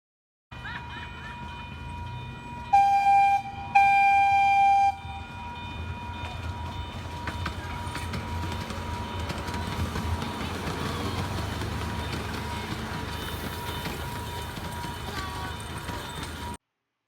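A train passing an automated railroad crossing where the signals come down, a steady rumbling roll of railcars running for many seconds with a brief ringing signal tone early on, fairly loud and close.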